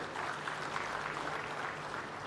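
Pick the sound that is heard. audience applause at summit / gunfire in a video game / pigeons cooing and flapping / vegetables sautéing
audience applause at summit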